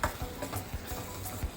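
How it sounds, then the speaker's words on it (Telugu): Mushroom curry is stirred into a sizzling tomato and onion mixture, with quick, rhythmic scraping strokes over a constant close frying hiss and no voices. "మిక్స్ అయ్యేలా కలుపుకోవాలి."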